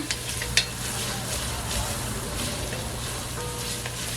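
Onions frying in a pot while being stirred, a steady sizzle running throughout with occasional scraping knocks, close by and moderately loud.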